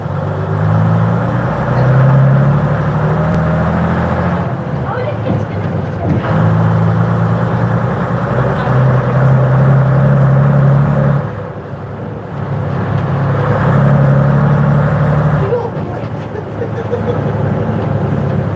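A car engine pulls loudly through the gears, its throaty exhaust note rising, dipping at each shift, and rising again.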